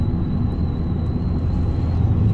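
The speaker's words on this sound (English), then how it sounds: "I just realized I got my sunroof open whistling." Wind whistles through an open sunroof of a moving car as a thin, steady high tone above a continuous low road and engine rumble.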